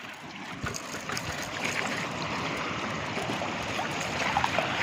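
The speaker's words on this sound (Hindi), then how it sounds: "देखो पानी आ रहा है," Water of the Ganga river flowing in Rajaji National Park, a steady close rushing and gurgling wash that stays even and moderately loud throughout, with no voices over it.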